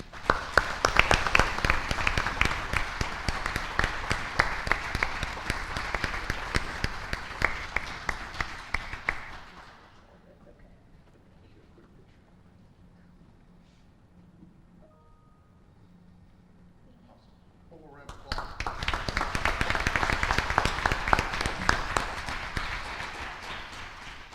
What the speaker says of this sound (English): So please give me a big round of applause for Ms.